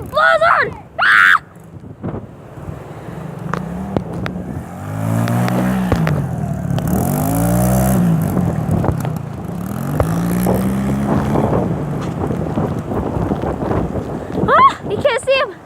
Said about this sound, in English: He's on his dirt bike in a blizzard!